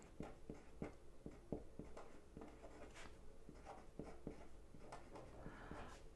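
A pen scratches across a paper planner page up close, very faint, with a steady run of small strokes and taps in an otherwise quiet room.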